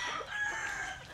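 A darag native rooster crows on a Cebu farm, a single drawn-out, fairly faint call heard alone against quiet background.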